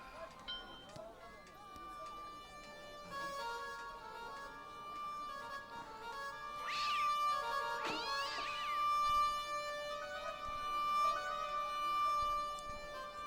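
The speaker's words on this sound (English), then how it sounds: "Right, we're gonna poke the cat." A cartoon cat in the Broken Sword adventure game meows and yowls when poked, two short, sharp, rising cries over a game music bed.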